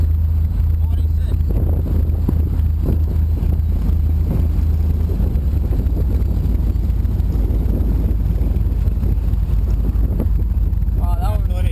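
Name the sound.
turbine-powered racing powerboat passing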